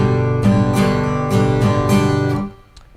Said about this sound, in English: So our strum is a 4-beat rhythm.